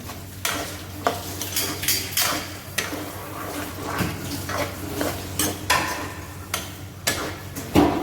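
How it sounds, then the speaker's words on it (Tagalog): Utensil scraping and clinking in a pan of sweet and sour fish sauce for carp, with steady rhythmic stirring strokes close up, fairly loud and without talk. "Halu-haluin na natin ito mga kamaster."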